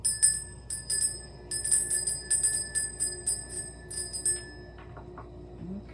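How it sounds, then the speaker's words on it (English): A bell rung at a live full-moon gathering: clusters of bright, high, quick metallic dings repeating for several seconds, then thinning out and fading near the end, with no talking over it. "let's begin by ringing the bell. This may be loud."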